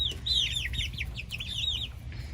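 Barred Rock chickens cluck and warble softly inside a shaded backyard coop, a quick string of close, faint calls over low background hum.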